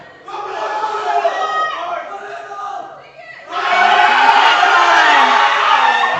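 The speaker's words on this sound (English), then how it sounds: "So the crowd is giving him support." A powerlifting meet crowd at a regional championship in the Cayman Islands shouts and cheers to urge a lifter on, a loud mass of voices swelling sharply halfway through and holding strong.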